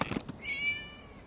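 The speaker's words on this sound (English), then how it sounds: "It was just a cat." A cat gives a single short meow, slightly distant and moderately quiet, after a brief thud or rustle.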